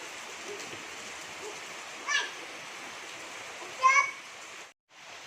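Steady broadband rain falls throughout, a dense even hiss close by, with a couple of brief louder splashes or sounds rising over it and a short drop-out near the end.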